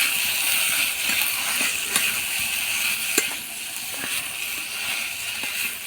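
Spiced jackfruit mash fries in a pan over low heat, giving a steady soft sizzle with occasional faint taps and scrapes of stirring and no talking.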